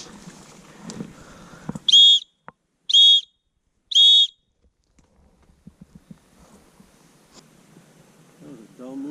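Three sharp, loud whistle blasts at a campsite on the Kekekabic Trail, evenly spaced about a second apart, calling a hiker back, with soft voices and rustling before and after.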